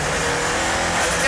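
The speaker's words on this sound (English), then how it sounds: "It's a high revving engine as well." A 1100hp Nissan R90CK Le Mans race car engine revs high and steady near 7,500 RPM, loud and close, with a constant roaring drone throughout.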